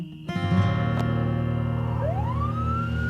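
A police siren wails close by, its tone sweeping upward over a steady engine hum, loud and continuous.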